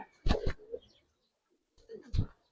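Giribaz pigeons in a loft give two separate bursts of low cooing, close and fairly loud, with a short quiet gap between them.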